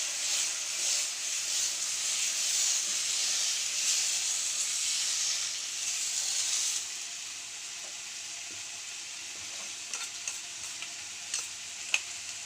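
Dosa batter sizzles and hisses steadily on a hot oiled pan for an egg dosa, a loud, dense frying crackle that eases to a quieter simmer partway through, with a few faint clicks near the end and no talking.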